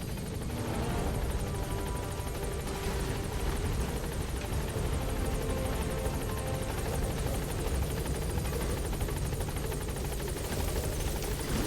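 A helicopter in the Metal Gear video game roars steadily nearby, its broad rotor and engine noise filling the scene without a break.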